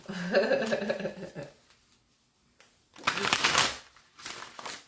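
Tarot cards being shuffled by hand during a Libra reading come through as two dry, papery riffling bursts after a short stretch of voice, the second burst fainter and closer to the end.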